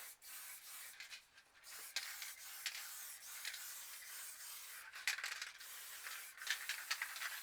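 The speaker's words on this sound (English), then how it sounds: "Then we'll get the black and cover the rest of the sheet in black." Black spray paint hissing from an aerosol can onto a sheet for spray paint art, in a steady broad rush broken by short pauses and bursts, close and fairly quiet, with no talking.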